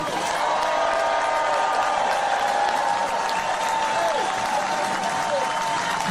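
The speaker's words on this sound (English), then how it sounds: "Would you cheer for the people who work around you?" A rally crowd at a Labor Day gathering in Haymarket Square, Chicago, claps and cheers in a continuous, dense wash of applause with scattered whoops, filling the space without a break.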